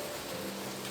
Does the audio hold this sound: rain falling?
yes